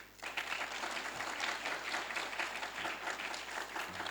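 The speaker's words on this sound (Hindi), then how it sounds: "तालियां साथियों" A crowd at a public lecture breaks into sustained applause, a dense even patter of many hands that holds steady for about four seconds at moderate distance.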